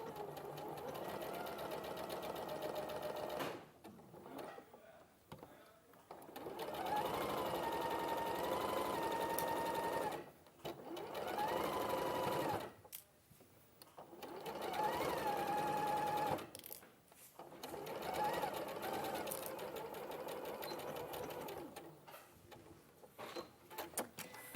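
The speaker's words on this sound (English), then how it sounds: "I'm just going to sew round here, and then I'll overlock to finish" A domestic sewing machine stitches around a dress bodice in long steady runs of rapid needle chatter, broken by short pauses as the fabric is turned, close and clear with no talk.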